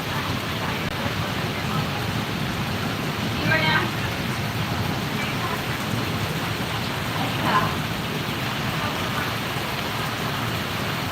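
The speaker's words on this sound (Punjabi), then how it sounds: "ਆਪਣੇ ਤਾਂ ਬਹੁਤ ਜ਼ਿਆਦਾ ਮੀਂਹ ਆ" Steady, dense rainfall hisses throughout, broad and continuous, with a couple of slightly louder gusts of splashing partway through.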